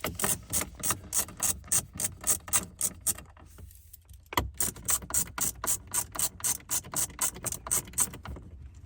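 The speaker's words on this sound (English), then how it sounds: "we're going to just take these two screws out" A hand ratchet backs out two screws from the dash trim of a 2023 or newer Ford Super Duty pickup, with loud, close, fast rhythmic clicking in two runs separated by a short pause.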